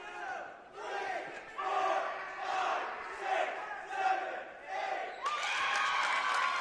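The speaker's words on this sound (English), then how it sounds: "Not deterred in the least by the crowd noise." Crowd in a gym at a girls' varsity high school basketball playoff game during a free throw, loud rhythmic chanting and yelling in repeated surges, rising into sustained cheering at the end.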